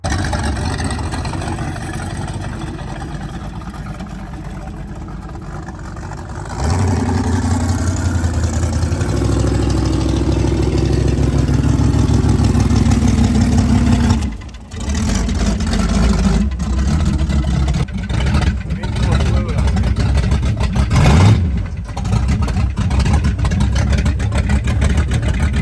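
A rough Pontiac Firebird engine runs loud and close, a steady low rumbling idle that rises in intensity partway through, with brief dips and revs later on and no talking.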